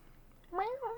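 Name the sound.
cat meowing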